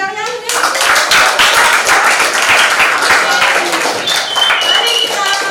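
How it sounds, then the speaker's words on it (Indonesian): Students in a classroom clap for themselves, a dense, steady applause with many hands at once that carries on for several seconds, with some overlapping voices. "Aplaus buat diri kalian"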